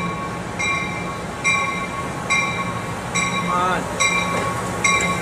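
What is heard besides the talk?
Amtrak or Coaster train passing at Santa Fe Depot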